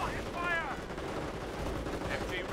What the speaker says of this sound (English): And this machine gun placement will actually get another burst off, suppressing the entire group.